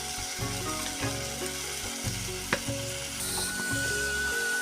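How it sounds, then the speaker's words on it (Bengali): Khola greens curry with salt, ginger-cumin paste, turmeric and a little water being stirred in a pan, a close sizzle under a repeating scraping stir, with a faint tonal hum running underneath. "ভালোভাবে এইভাবে নাড়াচাড়া করে নিতে হবে।"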